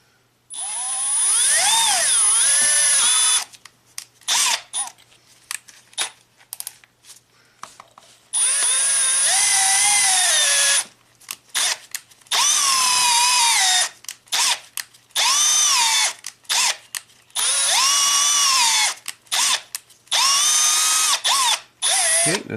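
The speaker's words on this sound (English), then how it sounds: "Let's first drill these 2 rear ones." A power drill whines loudly in repeated bursts, revving up and down with short pauses between runs as it bores bolt holes through metal in a Volvo XC70.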